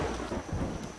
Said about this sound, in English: I don't remember it drizzly and rainy when I left.